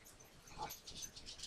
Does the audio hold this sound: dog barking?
yes